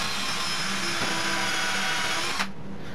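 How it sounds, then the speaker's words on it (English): A power drill with a piloted bit bores holes in wood for a furniture-quality quilt ladder, a steady loud whine that runs unbroken for over two seconds and then cuts off abruptly. "I'm going to drill some holes to attach this, and I'm going to use a piloted bit here"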